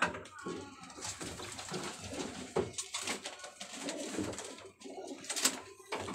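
Pigeons coo in repeated soft bursts among a flock of varied breeds, including silver pigeons, with someone talking over much of it and other birds chattering nearby.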